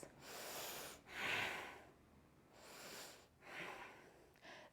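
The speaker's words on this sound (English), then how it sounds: "A couple more breaths." Deep breaths during a yoga pose, heard close and soft: several slow rounds of breathing in and out rising and falling in a steady rhythm, with strong breathy rushes and no talking.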